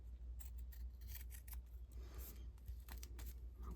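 Scissors snipping through a piece of paper while assembling an accordion-fold journal, a quiet run of short close cuts and rustles over a steady low hum.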